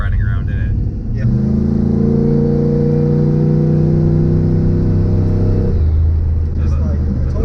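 Turbocharged LS engine in a 1995 Chevy drag truck droning loud and steady from inside the cab, holding a sustained revving tone before dropping back, while people talk throughout.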